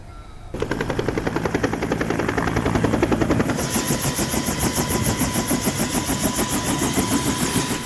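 A helicopter used by a search-and-rescue team in Mimika, Papua, runs with a loud, continuous engine roar and a rapid rhythmic rotor chop that grows sharper midway through, with no speech over it.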